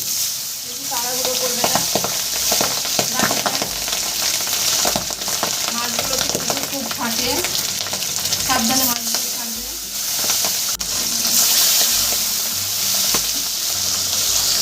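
Large pabda fish frying in smoking-hot oil in a wok, a loud, dense, crackling sizzle running throughout, with occasional spatters and clinks and a voice talking over it at times.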